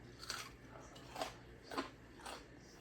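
Crispy fried bacon is eaten: four separate crunchy bites, spaced about half a second to a second apart, close and fairly quiet, with no talking.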